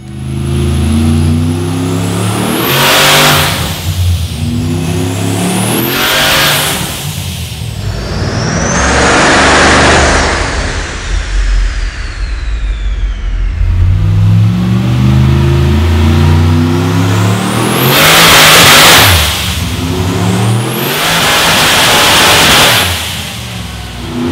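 A powerful 427-cubic-inch LS V8 in a Holden street car revs hard in repeated bursts, climbing to a roar and dropping back to a rumbling idle between blips, loud and close.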